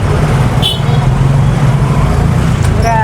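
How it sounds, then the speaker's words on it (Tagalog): Dense traffic on a congested street hums continuously, a steady wash of engines and road noise with faint higher squeaks and a short horn-like tone near the end. "Grabe ang traffic"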